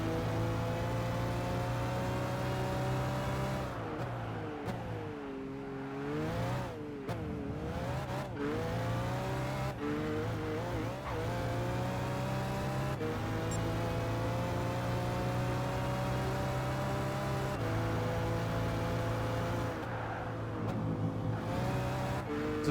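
Simulated race car in the Gran Turismo 5 video game, engine note rising and falling steadily through gear changes and revs, continuous and fairly loud with no talk.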